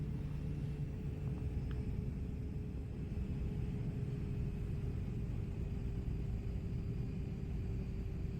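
Steady low cabin rumble of an airliner in flight with no pilots aboard, a continuous drone with a faint constant tone above it, even and unbroken throughout, with no voices.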